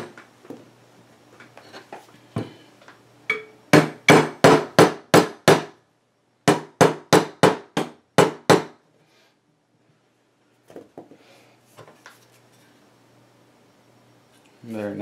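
Hammer tapping a part while building an AR-15 upper receiver with slick-side upper and 16-inch chrome-lined barrel, two quick runs of about six sharp metallic taps each, close and loud, with someone speaking before and after.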